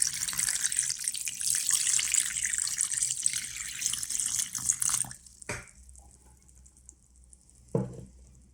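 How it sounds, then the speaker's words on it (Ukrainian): Water is poured over false morel mushrooms in a kitchen, a strong steady rush for about five seconds that then cuts off, leaving a couple of brief splashes and knocks and no talking. "Важливо не класти гриби у воду, а саме залити для кращого заповнення грибних порожнин."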